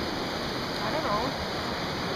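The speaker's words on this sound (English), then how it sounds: "We're by the Colorado River." The Colorado River runs high and fast past a small island, making a steady, dense rushing roar with no breaks, close and loud throughout.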